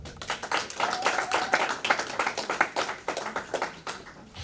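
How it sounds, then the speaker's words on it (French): A modest audience claps together at a memorial life celebration, with a fairly quick, uneven patter that builds and then thins out toward the end. A few voices murmur faintly underneath. "Est-ce qu'on peut applaudir pour Karen, je vous en prie?"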